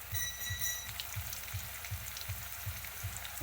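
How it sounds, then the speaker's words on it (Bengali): Potato pieces frying in hot oil in a pan, a steady close sizzle with a faint regular ticking pulse underneath, no voices. "আর এক পিট আমি ভাজা বসিয়েছি আলুগুলোকে একটু ব্রাউন শেডে ভেজে নেব"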